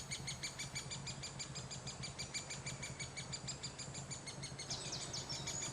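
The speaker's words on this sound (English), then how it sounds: "sit and watch the woodpeckers coming back and feeding their chick at the nest" Woodpecker chick calling from its nest hole while the parents return to feed it, a rapid, steady train of high, insistent chirps repeating without pause, moderately close, with no talk.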